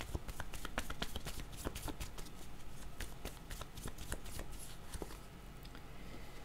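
Tarot cards are shuffled before a card is drawn, giving a continuous close riffling and sliding of the deck with sharp card snaps over several seconds and no talk.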